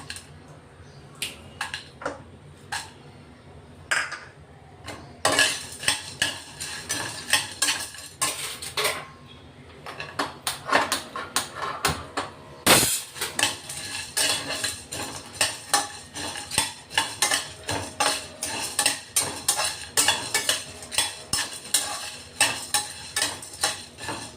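Coriander seeds dry-roast in a pan, their rustle and rattle under quick, steady scraping and clinking of a metal spoon against the pan, close and busy, growing denser after the first few seconds, with no talk.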